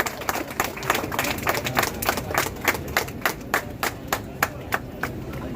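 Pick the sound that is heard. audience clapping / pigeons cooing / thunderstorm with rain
audience clapping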